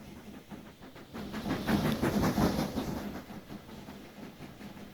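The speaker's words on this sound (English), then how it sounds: "Almost full train." A train rolls along a busy line in the video game Transport Fever 2, its rumble with rhythmic clickety-clack swelling as it passes close, then fading, with no voices.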